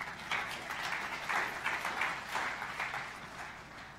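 A church congregation gives applause during a sermon, a fairly quiet wash of many hands clapping with loose pulsing bursts throughout, heard from a moderate distance with no talking over it.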